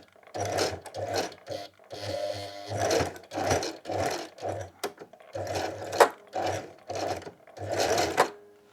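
A sewing machine back tack stitches a jelly roll rug, running in short bursts of rapid whirring and thumping, several starts and stops in quick succession, close and clear.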